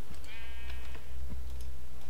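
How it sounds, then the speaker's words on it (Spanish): Cows moo in a UHC survival video game, one drawn-out bellow followed by shorter calls, with light computer keyboard clicks scattered underneath. "Se ponen a mugir como locas."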